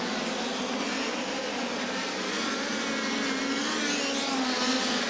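Midget race cars from a POWRi National and West Midget League field race in a tight pack at Federated Auto Parts Raceway at I-55, with a steady, continuous engine roar and no speech.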